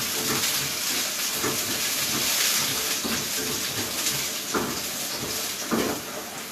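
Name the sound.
carrots sizzling in pan for venison stir-fry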